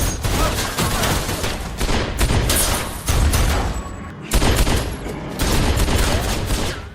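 Rapid bursts of gunfire crackle and boom almost without pause, several weapons firing at once in a loud, chaotic exchange.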